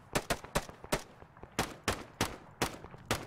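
Gunfire in the military video game Arma 3 during a squad assault on a mortar pit: about nine sharp, close shots in uneven bursts, each a loud broadband crack with a short tail.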